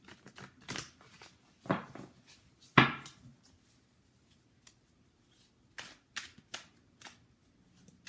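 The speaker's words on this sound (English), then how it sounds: "I just like the way the cards shuffle better." Tarot cards are shuffled by hand in soft, scattered riffles and snaps, with quiet pauses between handfuls and no voices.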